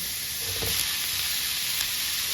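Shrimp stir-fried in a pan with blanched broccoli, giving a steady, close sizzle with a soft scrape of stirring near the start, no voices.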